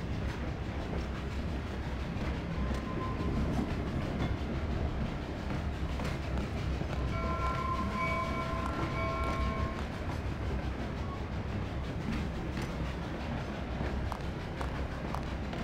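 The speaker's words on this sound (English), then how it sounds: "I hate trains." A train rattles steadily along the rails, a continuous close rumble and clatter with a few brief tonal squeals or whistles partway through.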